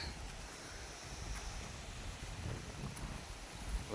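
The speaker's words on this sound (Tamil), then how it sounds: "அந்த அளவுக்கு ரொம்ப ஃபோர்ஸ் அடிச்சுக்கிட்டு இருக்கு காற்று" Strong wind blowing hard, a steady broadband roar with buffeting gusts against the microphone and faint rustling throughout, no voices heard.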